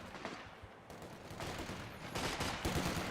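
Volley fire in Company of Heroes 2 comes as a dense, continuous spread of rifle shots that crackle and overlap at a fairly steady level across the whole moment, with no talking over it.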